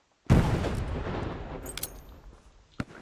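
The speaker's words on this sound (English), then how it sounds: "Grenade out." A grenade explodes in the Hell Let Loose WWII shooter: one loud, sudden near blast that rumbles on and decays over a few seconds, with faint clicks and a short sharp crack near the end.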